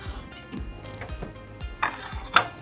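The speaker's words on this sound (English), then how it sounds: "You can get pots and pans, getting dishes out, your commonly used items" Pots, pans and dishes are handled in a home kitchen, with soft clinks and knocks of metal and crockery at an uneven pace, close and fairly quiet.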